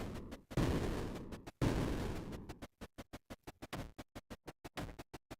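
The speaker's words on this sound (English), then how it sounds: "Throw some bombs in there. Those bombs will damage that." Bombs striking creeper in the strategy game Creeper World IXE, two long crackling blasts followed by a fast rhythmic series of short explosive pops, loud and punchy.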